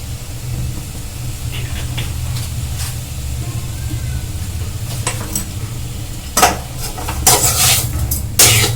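A spoon stirs chicken filling with sugar and soy sauce in a hot pan for a chicken bread roll, a steady sizzle under scattered scraping clinks that grow louder toward the end, no talk.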